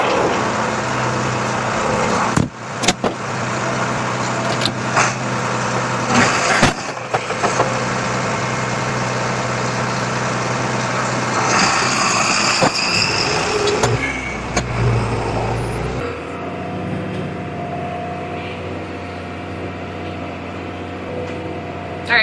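A tractor engine runs steadily as heard from inside the cab during spring tillage, a continuous mid-range idle drone with a few brief knocks and clunks, settling into a quieter, smoother hum near the end.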